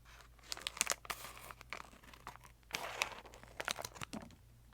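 Quiet, close crinkling and snipping of a plastic wrapper in short irregular bursts, with a few sharper cuts and rustles.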